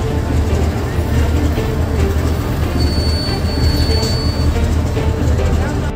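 A train rumbles through Sangrur railway station, a loud, continuous low roar of wagons with a thin metallic wheel squeal rising briefly above it, heard close by.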